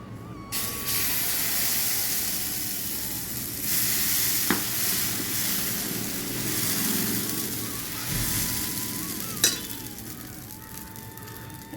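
Beetroot dosa batter sizzles and fries on a hot pan, with a steady close hiss, occasional stirring scrapes and brief sharp clatters.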